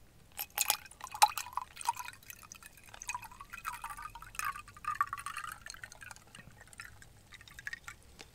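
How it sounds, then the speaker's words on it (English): Liquid poured into a fast-food paper cup, a trickling, dripping stream with glassy splashes that rises and falls over several seconds, fairly close and with no talking. "Now we'll just pour it first."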